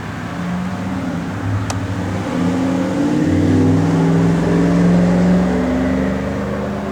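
A 1957 Chevrolet Bel Air engine idles steadily nearby, its low rumble swelling slightly as the revs rise gently midway, with no talking over it.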